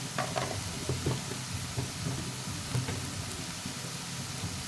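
Onions frying with salt in a pan alongside potatoes for aloo chilli, steady close sizzle with scraping spoon strokes stirring through it, no voices.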